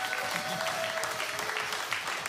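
A church congregation claps steadily in a dense, continuous round of applause, the sound filling the room over music and faint voices.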